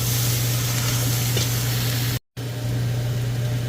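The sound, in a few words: stirring vegetables with daikon radish sizzling in a pot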